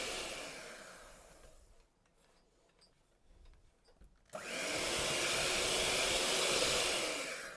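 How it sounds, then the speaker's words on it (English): An electric hand mixer works through a sticky salty dough made with Greek yogurt, a steady whirring motor that dips to a quieter, scraping stretch midway before surging back to a full, constant whine. "There's some dough left on this hand mixer, but it doesn't matter because I'm making just salty doughs here."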